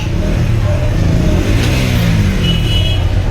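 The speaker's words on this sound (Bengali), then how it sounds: "দেখেন বাইক উঠছে" A motorcycle rides up onto a passenger launch at the Barishal river terminal at night, its engine revving loudly and close amid a constant rumble of surrounding crowd and launch noise.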